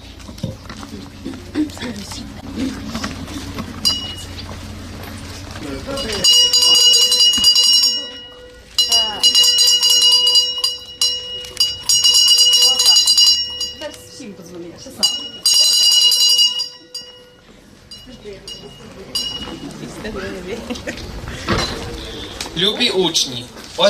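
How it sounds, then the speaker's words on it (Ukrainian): A school bell ringing at a Ukrainian village school on the first day of the school year, a bright repeated ringing in several long bursts, with voices before and after. "пролунала у новому навчальному році чарівна мелодія шкільного дзвоника"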